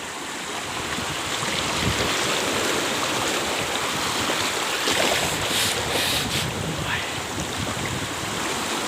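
Rushing river water during a raft trip in Phang Nga, Thailand, a steady broadband wash and splash that stays loud and close throughout with no voices.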